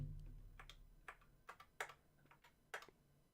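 Typing on a computer keyboard, a quiet, irregular run of distinct key clicks with a few sharper taps, close by and heard alone.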